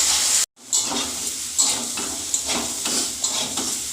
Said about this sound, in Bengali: পরিমাণ মতন হলুদ গুঁড়ো দিয়ে দিলাম দিয়ে এবারে ভালো করে কষাবো সবজিটাকে